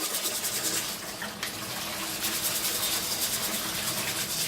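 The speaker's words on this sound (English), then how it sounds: "You just rinse it out," Parts of a compact Breville juice extractor rinsed under a running tap, a continuous close hiss and splash of water with slight shifts as the pieces move in the stream.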